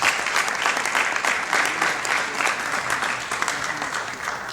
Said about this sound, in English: why don't we all give them a round of applause?